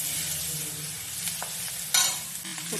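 Chunks of onion, tomato, capsicum and spring onion tossed into a hot frying pan for spicy veg Manchurian: steady sizzle, a few utensil taps and one sharp loud hiss burst as the vegetables hit the oil.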